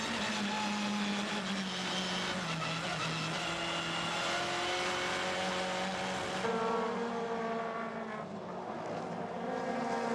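Touring race cars scream past at high speed at the Paul Ricard circuit in France, a loud sustained engine roar with shifting pitch as several cars sweep through in a pack.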